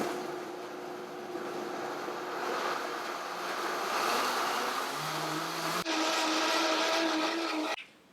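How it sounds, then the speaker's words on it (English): A kitchen blender whirring through strawberry puree with lime juice, a steady loud motor drone that shifts pitch partway through and cuts off sharply near the end. "I'm just going to blend this until it is nice and smooth"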